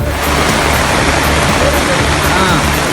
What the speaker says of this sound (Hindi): इस पानी के बहाव को देखिए। पानी की आवाज ही किसी के भी दिल में खौफ पैदा कर दे।